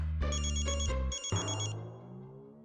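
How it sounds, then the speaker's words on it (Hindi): A telephone rings indoors in a household scene from a Hindi TV drama, giving two bursts of electronic bell-like ringing followed by a fading tail. The ringing is close and clear, with no one talking over it. "फोन बज रहा है आपका।"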